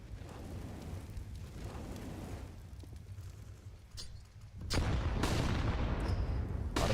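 Gunfire in a Counter-Strike esports match, with a Glock pistol shot among dense low rumbling bursts; the scene grows louder and busier near the end with sharper cracks.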